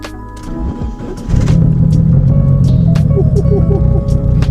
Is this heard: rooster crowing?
no